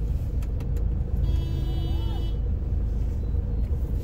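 Road traffic stuck in a jam, with a constant low rumble of idling engines from cars and heavy vehicles nearby and a brief horn-like tone, while people talk over it.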